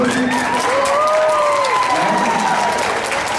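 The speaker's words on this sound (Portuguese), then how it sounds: "Uma salva de palmas" Loud crowd applause at a tribute ceremony for a teacher called on stage, with cheering and rising, sliding whistles or shouts layered over the continuous clapping.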